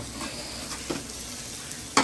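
Curry leaves fry in coconut oil in a home kitchen pan, giving a quiet, steady sizzle with faint stirring scrapes and a sharper clink at the end.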